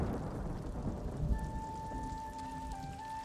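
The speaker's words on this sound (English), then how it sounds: "Get out of here, rain. Rain, rain, go away." Steady rain patters across the whole stretch in the video game Ghost of Tsushima, a dense hiss of drops with a faint low rumble beneath and a thin sustained tone joining partway.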